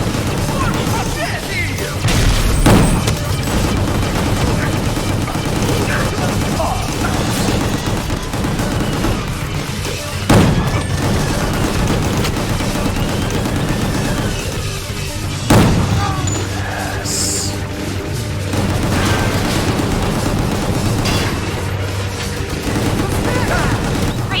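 Gunfire and explosive booms from the Gungrave GORE video game recur through a dense, loud action soundtrack, with sharp bursts standing out every few seconds and a voice speaking at times.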